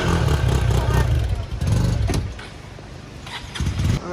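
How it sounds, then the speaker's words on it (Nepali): A motorbike engine idles and warms up at close range on a mountain road trip, a low steady rumble with a brief rise in revs before settling back, with faint clatter over it. "हाम्रो केटाहरू चाहिँ तपाईँहरू चाहिँ बाइक तताउँदैछ"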